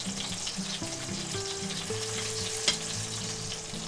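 A chuck eye steak sears in a pan with bacon fat, giving a steady, close, even sizzle that holds throughout with one brief knock midway.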